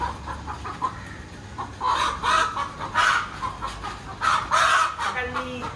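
A hen clucks repeatedly in short bursts, fairly close, with some faint background noise between calls.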